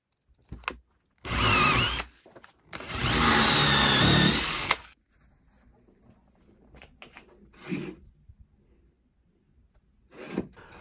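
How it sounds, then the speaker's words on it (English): Two loud bursts of a power drill whirring into walnut to make dowel holes, close up, followed by quieter scraping and handling sounds. "And then I can drill the faces and the edge dowels in the legs."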